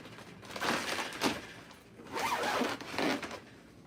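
A zipper on a bag or jacket is pulled closed twice in a row, two close, scratchy zips with a short pause between them, heard alone in a quiet room.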